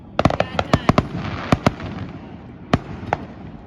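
Fireworks bursting at 4th Street in Chesterton, Indiana, a volley of sharp cracks and booms, several close together early, then a few scattered ones over a rumbling outdoor background.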